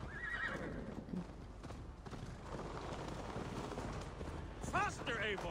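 A galloping horse in Assassin's Creed Valhalla drums out steady hoofbeats and lets out loud whinnies near the end, with voices talking over the ride.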